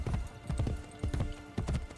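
Horse hooves clip-clop at a steady gallop in Assassin's Creed Brotherhood, a rhythmic run of heavy thuds repeating about every half second, close and fairly loud with no talk over them.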